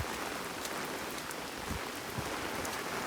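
Steady rain falls outdoors at St. John Parish Church in Barbados, a soft continuous hiss of drops with occasional louder nearby droplet taps. No voices are heard.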